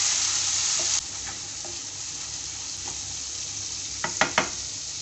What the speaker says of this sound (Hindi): और इसके अंदर मैं 2 चम्मच लहसुन का पेस्ट डाल रही हूँ और 1 चम्मच अदरक का पेस्ट डाल रही हूँ। इसको डाल के 1 से 2 मिनट तक सौते करेंगे।